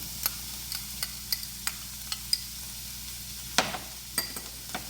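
Red and green peppers sizzle steadily in a pan while being stirred, with close, crisp scrapes and taps of the utensil every half second or so over the constant frying hiss.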